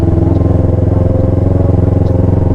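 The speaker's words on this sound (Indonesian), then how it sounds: "ini akhirnya kita step motornya si Wendy cuy." A motorcycle is towed uphill on a forest trail by another rider, its engine chugging close and loud in a fast, even pulse without a break.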